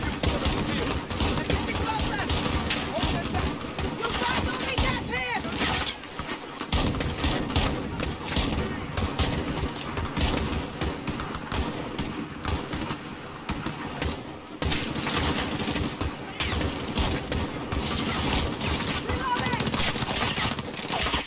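Sustained gunfire from a Call of Duty Modern Warfare battle, dense automatic bursts and shots rattling continuously and loudly throughout, with players' voices talking over the combat.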